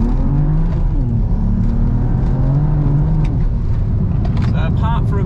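BMW N54 engine fitted with B58 ignition coils and running E72 ethanol accelerating hard under load, a loud continuous engine roar with rising revs, heard from inside the car.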